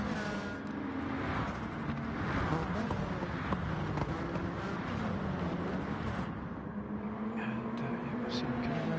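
Sim racing cars in a 24-lap touring car race on softs and mediums, including a Peugeot, whine and drone past in a steady engine wash under continuous commentary talk.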